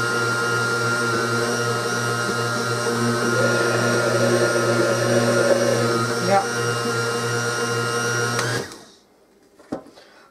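A blender grinding bean fritter batter with onion, a loud, close, steady motor whir that runs for about eight seconds and then cuts off, leaving quiet room sound and a faint knock.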